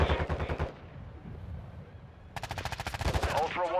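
Rapid automatic gunfire in a Call of Duty match, two fast bursts of close, punchy shots separated by a quieter gap, with a brief radio-style voice at the end.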